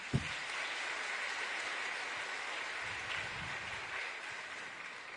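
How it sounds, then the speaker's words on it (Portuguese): A church congregation applauds the preacher during a homily, a faint, distant, hissing patter of many hands clapping, steady and low throughout after a brief thump at the start. "Pode aplaudir o profeta."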